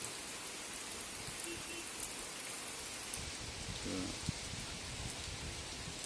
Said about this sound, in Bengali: এখন পর্যন্ত বৃষ্টি থামতেছে না